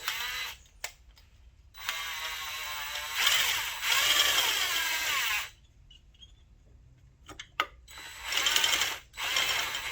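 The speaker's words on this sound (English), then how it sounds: "And then the spring compressor threads in" A spring compressor is threaded onto a racing motorcycle fork cartridge during a fork seal change. Close, loud bursts of mechanical ratcheting and gear clicking come in several short runs, separated by quiet gaps.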